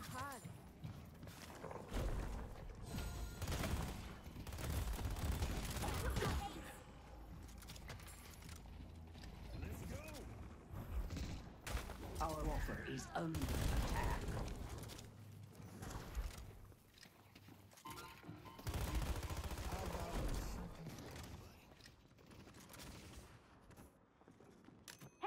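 Rapid gunfire and mechanical combat noises from the video game Deadlock crackle in bursts through a busy match, with someone talking over most of it.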